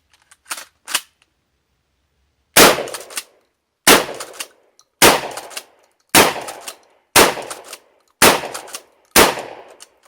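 Kel-Tec KSG shotgun fitted with a recoil pad fires eight loud, sharp blasts outdoors, two quick ones first, then a pause, then six shots spaced about a second apart, each with a short ringing tail; no talking.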